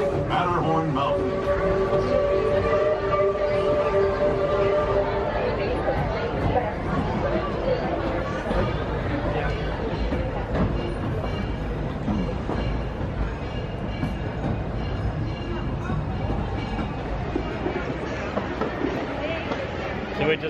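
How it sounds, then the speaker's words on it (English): Disneyland Railroad train rolling around the park, steady rumble and clickety-clack of wheels on track with some squealing, close and continuous throughout, with crowd chatter and people talking over it. "Disneyland Railroad."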